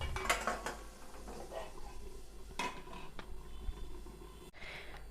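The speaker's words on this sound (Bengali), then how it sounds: "এখন 5 মিনিট আমি ঢাকা দিয়ে রেখে দিচ্ছি।" A lid is set on a pot of Bengali rui fish malai curry with a few light metallic clinks and knocks, fairly quiet over a soft, low kitchen background.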